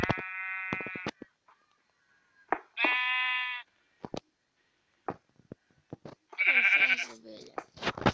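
Sheep in the Minecraft video game bleat several times, short wavering cries spaced apart with gaps, mixed with clicking and tapping sounds at moderate loudness.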